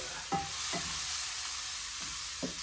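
Fajita peppers and onions sizzling in a hot pan while being stirred, a steady frying hiss under four brief, spaced scrapes of the utensil, close and with no talk.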